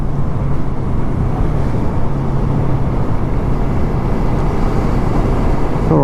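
A 2014 Kawasaki ER6-N motorcycle accelerates with a loud, steady engine drone mixed with wind rush, holding an even intensity throughout.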